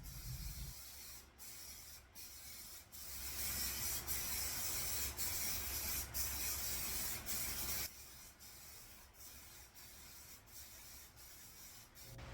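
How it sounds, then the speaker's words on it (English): A spray gun lays two-part clear coat onto car paint in long continuous hissing passes, broken by brief pauses between strokes, close and steady with no talking. "I applied 4 total coats of the clear coat, doing my best to make each coat even and consistent."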